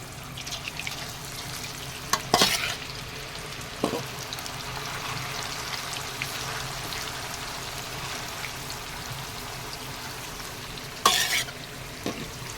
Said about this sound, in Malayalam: ഇതിനെ നമുക്കിനി കുറേശ്ശെ ഇതിനകത്തോട്ട് എണ്ണയിലേക്കിട്ട് വറുത്തെടുക്കാവുന്നതാണ്